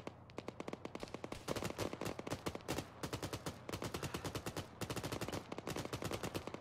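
Sustained gunfire in the video game Arma 3 during a Gulf War Desert Storm battle, rapid overlapping automatic bursts and single shots crackling continuously at moderate loudness with no voices.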